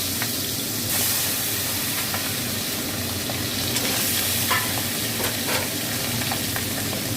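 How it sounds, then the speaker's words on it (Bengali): Pabda fish rubbed with salt and turmeric spits in hot oil, making a loud, continuous close-up sizzle dotted with scattered sharp pops. "তেলটা গরম হয়ে গেছে, মাছগুলো এবার দিয়ে দেবো।"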